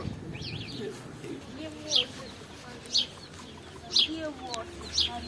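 Chicks and ducklings for sale at a flower market in a blooming city: high, thin peeps come roughly once a second, four in a row, under people talking and general market bustle.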